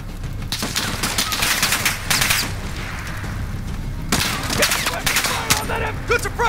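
Bursts of machine gun fire in a modern military shooter video game, rapid loud volleys repeating across the clip amid battle noise, with occasional shouted voices.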